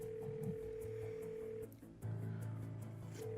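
An electronic telephone call tone from the Nancy Drew game The Deadly Device plays as steady, faint synthesized beeps and held tones over a low background hum, with no one speaking.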